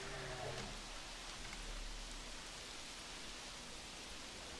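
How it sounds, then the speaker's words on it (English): Rain falls in the video game Jurassic World Evolution, a faint, steady hiss of noise-like rainfall running throughout with no distinct drops standing out. "Of course it's raining now"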